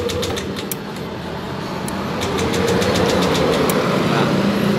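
Yamaha Aerox 155 scooter with a starting fault, its electric starter cranking the engine in a steady whirring drone that grows slightly louder, close by, with a voice speaking briefly.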